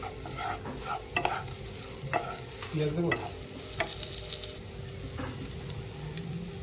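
Spatula stirring a spiced filling for Mughlai paratha in a pan, with a continuous gentle sizzle and scattered scraping clicks, close and steady, no speech.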